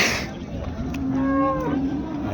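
A buffalo at the Karungalpalayam cattle market in Erode gives one drawn-out, low moo that rises and then trails off, set against the steady murmur of the busy market.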